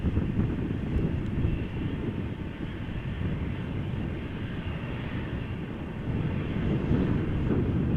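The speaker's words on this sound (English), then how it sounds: "As a 737 to Venice, to Venezia, is just taking to the sky over here." A Boeing 737 bound for Venice climbing away after takeoff at Amsterdam Schiphol, a heavy, sustained low engine rumble that stays steady and fairly loud, slightly swelling toward the end, with no talk.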